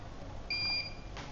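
Soldering equipment gives a single short electronic beep, a clean high tone lasting about half a second over faint room hiss, with no one speaking.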